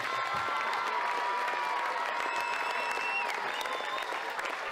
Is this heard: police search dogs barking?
no